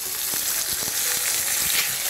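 Beef sears in hot butter in a duchy, an 18th-century-style pan, giving a loud, steady close sizzle broken by sharp crackles and pops.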